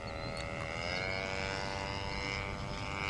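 An RC model airplane towing a banner, its propeller engine giving a steady, continuous drone that holds at an even level throughout with no pauses or voices.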